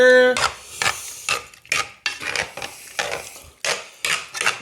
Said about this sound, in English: Good stir.